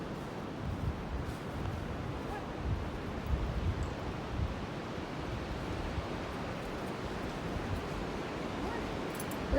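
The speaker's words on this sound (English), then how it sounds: "Listen to that wind." Wind gusting across the Rocky Knob Trail in south-central Pennsylvania, a steady, soft broadband rush of air through the woods, faint and continuous for the whole stretch with no voices.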